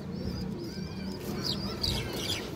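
Large-headed pigeons coo in a loft, low throaty calls rolling repeatedly near the microphone while sharper chirps from other birds cut in now and then, with no talking.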